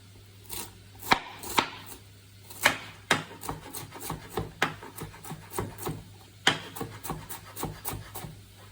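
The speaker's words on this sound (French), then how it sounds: "Voilà, on coupe les fleurettes." A knife chopping through cauliflower florets on a board, with a series of crisp, irregular cuts and scraping strokes close up and fairly loud, without talk.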